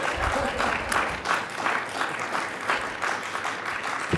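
Steady, moderate applause from a small audience at a medical conference debate on clinical informatics board certification, continuous clapping with slight swells and no speech over it.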